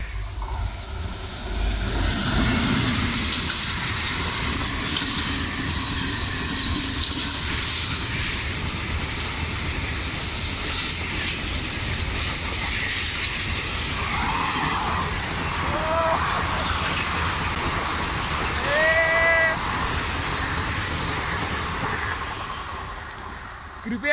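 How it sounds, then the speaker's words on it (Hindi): A main-line passenger train rolls into Gongli railway station on the next track, a loud sustained rumble and clatter of wheels with squealing tones near the end, heard from close by beside the rails. "मेन ट्रेन उस ट्रैक पे आने वाली है।"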